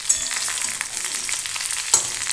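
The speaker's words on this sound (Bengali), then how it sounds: "শিম আলুটা আমি ভালো করে ভেজে নিয়েছি।" Broad beans and potato fry in a pan with a continuous, close sizzle and occasional stirring scrapes, including a sharper clink near the end, heard alone without speech.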